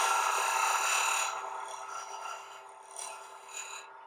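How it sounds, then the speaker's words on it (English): A skew chisel scraping the end of a wood workpiece spinning on a lathe gives a steady, close, raspy scrape that eases off and continues more softly in short bursts. "I could come in here with my skew chisel from the end, clean that surface up."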